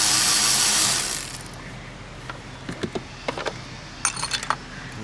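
Tools loosening charge air pipe hold-downs on a 2004 GTI engine during timing belt and water pump work: a loud metallic rush at first, then scattered small clinks and taps of metal on metal, close by.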